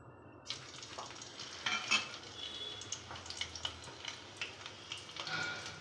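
Green chilies hit hot oil in a pan, giving a steady crackling sizzle scattered with sharp little pops throughout, close and fairly quiet, with no talking.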